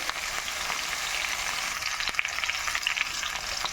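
Fish head and mixed vegetables frying in a pan, with a steady close sizzle and occasional sharper crackles and pops from stirring, no voices.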